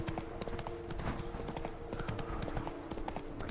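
Geralt's horse Roach gallops in The Witcher 3, steady rapid clip-clop of hooves close up over a busy game soundscape, the rhythm continuing throughout.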